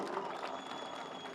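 Audience applause for Telangana Chief Minister Revanth Reddy at a Congress party political gathering, a steady, dense crowd clapping that holds evenly throughout at moderate volume.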